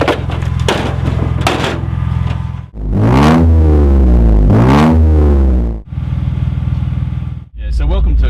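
A Ford Taurus engine running and revving in bursts, loud and close with harmonic rising and falling tones and brief drops between pulls, with a voice talking over it.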